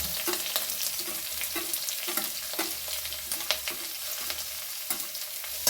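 Chopped onion sizzles in hot oil with green chilli and ginger. The frying is continuous and close, and a spoon stirs and scrapes against the pan at repeated intervals.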